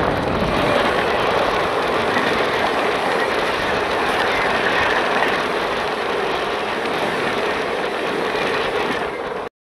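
Visva-Bharati First Passenger Special, a passenger train passing alongside a moving train on the Kolkata–Santiniketan line, a loud, steady rushing rumble with wheel clatter, close by throughout, cutting off abruptly at the end.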